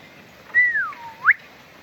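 A single person whistles a short, clear two-part tune, a sustained falling note that swoops up into a brief rising flourish, close and alone with no talk.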